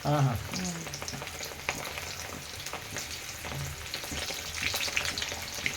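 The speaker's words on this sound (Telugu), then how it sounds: "అల్లు నూనె వేడైంది కొన్ని కొన్ని వేసి ఫ్రై" Spiny gourd pakodi batter drops deep-frying in hot oil, a steady dense sizzle and crackle running throughout with a few soft stirring knocks, close and moderately loud.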